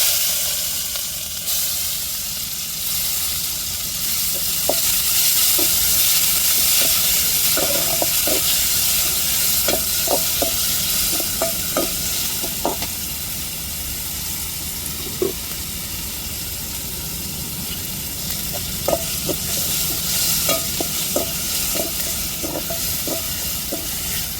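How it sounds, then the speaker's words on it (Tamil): Onions frying in oil in a pan with curry leaves and cinnamon, a constant loud sizzle and hiss with light scraping stirs scattered throughout, no one speaking. "நல்லா எண்ணெயில் வதக்கி விட்டுருவோங்க"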